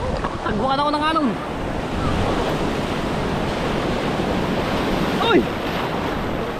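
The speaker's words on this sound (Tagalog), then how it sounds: "Tagbukan ako ng alon." Ocean waves surging and breaking at sea during net fishing, a loud continuous roar with heavy wind buffeting the microphone, while excited voices shout briefly over it.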